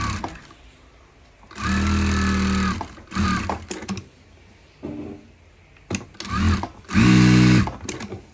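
Sewing machine stitching a polo shirt placket runs in loud bursts, several short runs of stitching separated by pauses with quieter handling noise between.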